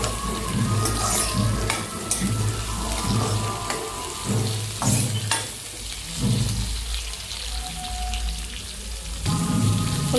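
Onions frying in a pan with garlic and tamarind for a dondakaya dish, a loud close sizzle broken by repeated scraping stirs and shifting bursts as the mixture is turned; nobody speaks.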